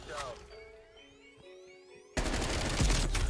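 A burst of Groza rifle fire in the Black Ops Cold War multiplayer game, loud and dense, kicking in abruptly partway through after a quieter stretch of game sounds.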